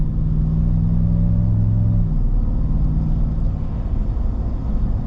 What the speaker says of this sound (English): gotta love the subtle supercharger whine